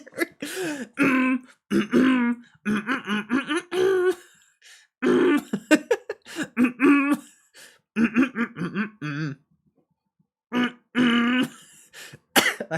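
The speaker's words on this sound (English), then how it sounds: "a symphony of phlegm clearing" Someone repeatedly clears their throat and hacks up phlegm in rough, gurgling bursts, close and loud, with brief pauses between.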